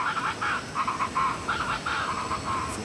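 Birds in the Brazilian jungle give repeated alarm calls, a steady run of harsh, cawing bursts that overlap for the whole stretch, fairly close and loud over a faint background.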